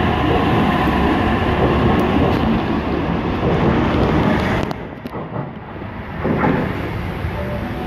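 A Sydney train rumbles loudly and continuously through Cheltenham Station with heavy wind buffeting on the microphone, easing slightly partway through before the roar resumes.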